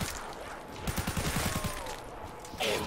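Dracon gun in a Call of Duty custom zombies map, firing a rapid burst of about eight sharp shots mid-clip over a quiet game backdrop.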